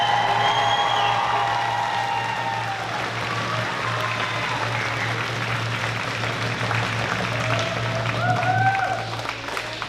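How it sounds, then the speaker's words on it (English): A graduation audience cheers and applauds in a broad, sustained wash of clapping and scattered whoops that holds steady, with a voice speaking over the crowd. "A little cheer, everyone."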